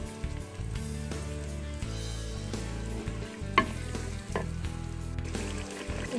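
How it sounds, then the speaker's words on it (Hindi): Spices frying and being stirred in a pan while making mustard greens saag, a steady sizzle with occasional scraping and a sharp clink near the middle, close and continuous with no talk. "अच्छी तरह से मैं मसाले को भून लूँगी"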